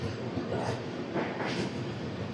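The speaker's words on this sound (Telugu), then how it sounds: "ఒంగోలు నుంచి మన ట్రైన్ అయితే స్టార్ట్ అయిపోయింది" Narayanadri Superfast Express 12734 rolls along from Ongole toward Tirupati, heard from aboard as a steady, muffled rumble of the carriage with soft swells of wheel and track noise.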